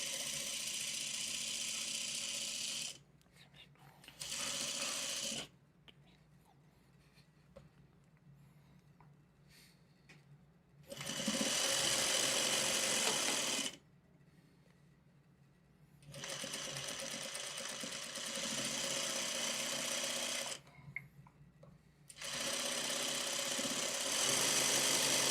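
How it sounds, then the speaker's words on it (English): A sewing machine stitching two quilt block halves together runs in several bursts of steady, close mechanical whirring, separated by quiet pauses, with no talk over it. "And we will sew these two halves together."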